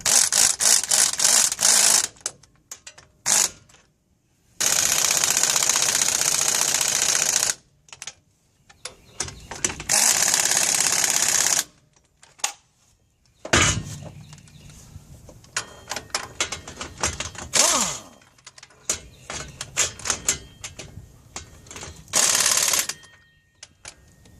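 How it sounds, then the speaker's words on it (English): An impact wrench on a low setting drives a press tool to pull a ball joint into the front axle of a 2003–2009 Dodge 2500 4x4 truck, firing in loud bursts of rapid hammering separated by pauses, with short ratcheting rattles between. "So you want to turn your impact down on a lower setting. Just kind of gradually pull it in."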